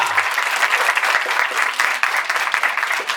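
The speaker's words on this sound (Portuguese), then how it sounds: "Uma salva de palmas para a Sandra." An audience at a comics panel at a university event claps loudly and continuously, a dense burst of applause from nearby with no talking.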